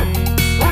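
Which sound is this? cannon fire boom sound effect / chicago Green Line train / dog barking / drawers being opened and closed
dog barking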